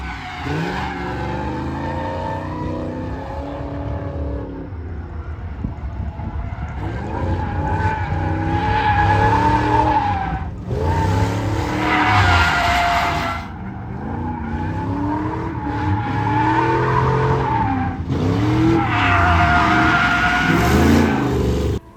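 A car partly covered in primer drifts with its tires skidding and squealing in long sweeping runs over a steady revving engine, loud and close, with bursts of harsh tire noise rising and falling throughout.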